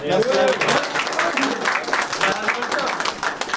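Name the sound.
audience applauding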